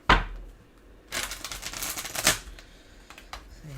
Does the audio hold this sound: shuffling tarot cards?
yes